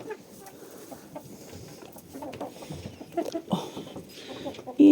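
Chickens feeding on grain cluck softly and peck nearby, a busy murmur of low clucks building toward the end, with a louder cluck at the close.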